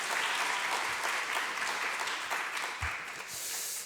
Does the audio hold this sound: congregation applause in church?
yes